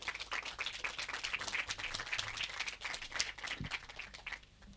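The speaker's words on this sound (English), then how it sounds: "Let's give them a warm round of applause." Audience members clap for a panel on regenerative farming and young farmers, a faint, scattered round of applause that thins out toward the end.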